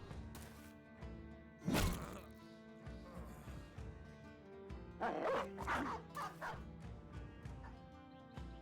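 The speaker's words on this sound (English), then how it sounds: "Release the Hounds, tear him apart." Dogs bark and snarl in the video game Battle Brothers, with a loud burst early on and a cluster of yips and barks later, all mixed over game music.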